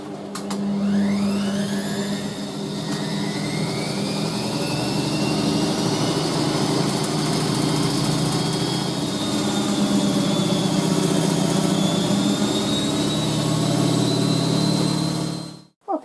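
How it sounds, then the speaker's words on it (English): A Black & Decker AC7000 PowerBrush handheld vacuum cleaner runs steadily and loudly at close range with a constant high motor whine, then cuts off abruptly at the end. "a vacuum cleaner demonstration of something I purchased a while ago"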